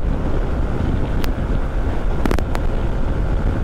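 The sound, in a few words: strong wind while touring on a motorcycle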